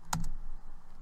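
Keys being typed on a computer keyboard at a command prompt: two quick, crisp clicks close to the mic, then quiet.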